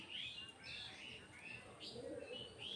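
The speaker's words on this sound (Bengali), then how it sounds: "এটা হচ্ছে আমার পোষমানা তিলা ঘুঘু" A pet spotted dove calls near a home, with repeated soft chirping notes in short bursts against a faint murmuring background, steady and close throughout.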